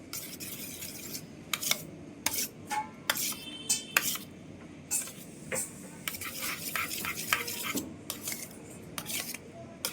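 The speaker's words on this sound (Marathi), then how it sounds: "हे मस्त मिक्स करतोय." Veg frankie filling for a Mumbai street-style wrap being stirred and mixed in a pan, with repeated bursts of scraping and clattering utensil strokes in an irregular rhythm, close by, with no talking.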